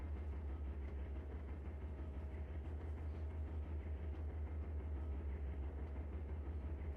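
A BNSF intermodal train in Trainz Simulator 3 on the Tehachapi Loop rumbles along steadily with a deep, constant low drone and faint rhythmic clatter, quiet and unchanging throughout.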